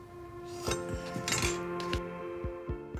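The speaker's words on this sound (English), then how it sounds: "And then take a knife and cut across." Knife pressed and dragged across thin rolled pastry along a metal workshop ruler, a few soft clinks and taps of blade and ruler on the board over a steady background hum, no talk.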